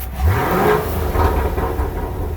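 A 2016 Chevrolet Camaro SS with stock exhaust revs with a deep rumble, rising and falling a few times in quick bursts, close by.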